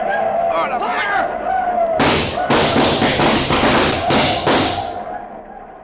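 A 1950s American radio drama plays a gunfire volley sound effect, a burst of loud heavy shots rattling out in quick succession after raised voices.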